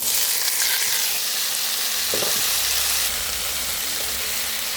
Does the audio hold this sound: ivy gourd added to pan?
yes